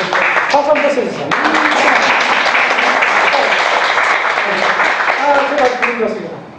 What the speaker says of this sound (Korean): 박수 한번 써주세요.